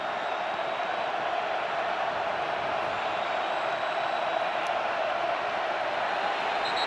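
Steady, dense roar of a stadium crowd at a Rutgers versus Iowa college football game, continuous and loud without breaks, a wash of many voices filling the air.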